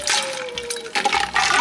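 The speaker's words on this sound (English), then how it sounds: "Maybe use that to pour water over it." Water poured over a glass bottle during a kitchen egg-in-a-bottle experiment, a steady splashing, trickling pour at close range with brief pauses and surges, fairly loud and with no talk over it.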